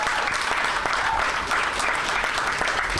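Audience applause at a civic event, a dense continuous burst of many people clapping, close and loud throughout.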